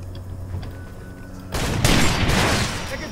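Heavy gunfire bursts out in Far Cry 2, loud and sustained after a quieter stretch, a dense run of blasts with no talk over it.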